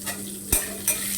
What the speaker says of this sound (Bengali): তো কেটে রাখা পেঁয়াজটা দিয়ে দিচ্ছি আমি